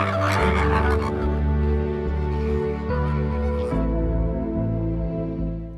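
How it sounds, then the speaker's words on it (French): Hundreds of flamingos calling together during their courtship display beneath a heron colony, a dense, continuous honking chorus at steady loudness throughout. "les oiseaux qui font le plus de bruit, ce sont les centaines de flamants roses en pleine parade nuptiale"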